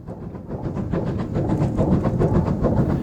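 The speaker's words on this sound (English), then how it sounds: "number 35023 Holland Africa Line, opens up after a signal check" Bulleid Southern Railway Merchant Navy Class Pacific steam locomotive 35023 Holland Africa Line opens up after a signal check: loud, steady, close roar of exhaust with rapid rhythmic beats and rumbling running noise throughout.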